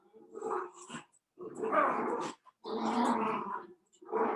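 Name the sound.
dogs barking and growling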